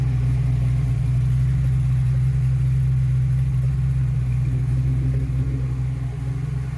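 A Ford Mustang engine idles while warming up, a steady low rumble that holds even and close throughout with no revving and no voices.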